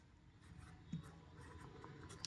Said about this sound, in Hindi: अब यहां लिखते हैं